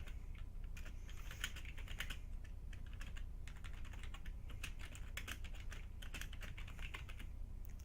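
Rapid keystrokes on a computer keyboard clatter steadily and close by for the whole stretch, with no voices over the typing.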